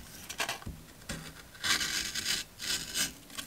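A folding knife, a Spyderco Grasshopper or Gerber Paraframe, slices into wood with several close, dry scraping strokes and a few sharp knocks, heard alone.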